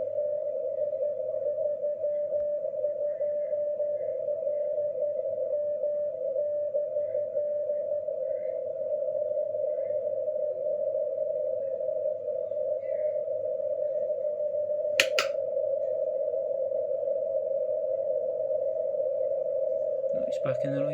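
On the 40 m amateur band, a steady continuous tone from a distant station sits in a hiss of static picked up by a phased vertical antenna array, with a short burst of crackle near the end.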